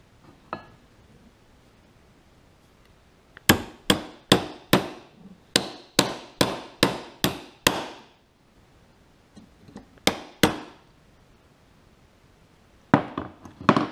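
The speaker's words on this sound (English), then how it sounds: "I'm going to do it up here on the anvil." A hammer strikes metal on an anvil during a Cub Cadet dozer build, sharp ringing blows in quick bursts: one lone tap, then a rapid run of about ten strikes, a short pause, two more, then a final few.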